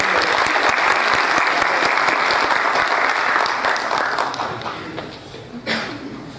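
Audience applause at a Brazilian heraldry and humanities award ceremony, dense rhythmic clapping from many hands that holds strong for several seconds, then gradually thins and fades with a few scattered late claps.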